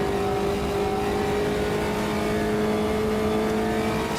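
A race car engine in Automobilista 2 drones at steady high revs down the front straight, a continuous loud, close whine with no break or gear change.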